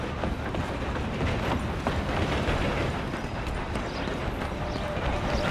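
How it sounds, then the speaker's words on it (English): A moving train rumbles steadily in the video game Red Dead Redemption 2, its rhythmic rattling clatter joined by galloping hoofbeats from horses riding alongside. "I'm gonna ride ahead and stop the train."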